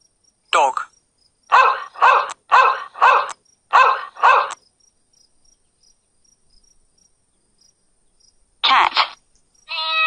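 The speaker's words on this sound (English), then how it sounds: "Dog." A run of six short, sharp barks in quick succession, then a pause and a couple more yelps at the end, fairly close.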